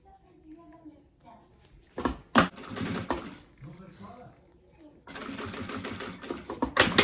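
A sewing machine stitches a heart-shaped fabric bag in short bursts of quick, even needle chatter, with someone talking between and over the runs.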